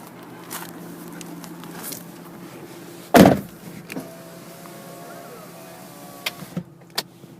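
The trunk of a 2014 Ford Mustang GT Convertible releases with one loud, close thunk, followed by faint mechanical clicks and a few light taps.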